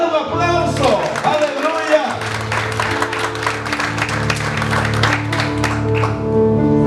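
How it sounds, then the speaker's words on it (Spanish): Congregation clapping in a Spanish-language church service, a sustained burst of applause mixed with cheering voices and a musical drone underneath, close and fairly loud. "Den un aplauso."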